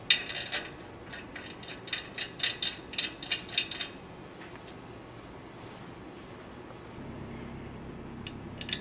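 Position locators being tightened down onto a separator cartridge during LDMBC maintenance: a quick run of sharp, close ratcheting clicks in the first few seconds, then a quieter stretch with faint mechanical ticks and low background hum.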